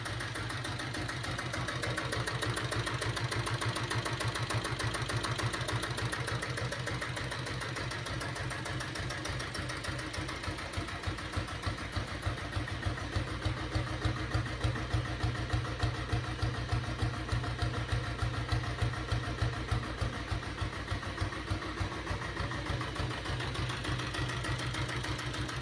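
A Royal Enfield diesel Bullet motorcycle idling close by, its rapid thumping beat ticking steadily and growing more distinctly knocking in the second half.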